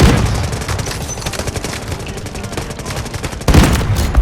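Rapid bursts of gunfire in the shooter video game Delta Force rattle steadily and loudly, and a heavier, louder volley hits near the end, with no voices.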